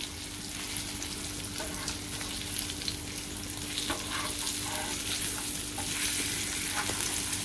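Thin slices of chonak fish coated in semolina fry in a pan, giving a steady, close hiss and sizzle with occasional small pops, continuous throughout with no talk.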